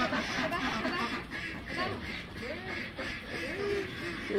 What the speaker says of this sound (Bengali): হাঁস খেদিয়ে নিয়ে দূর।